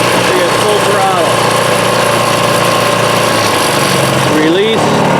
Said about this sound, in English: as we squeeze it, see it's full throttle